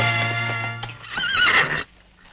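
A horse whinnies loudly in a rising, wavering call that cuts off abruptly, with hooves clopping and low rumbling beneath, in a Western film.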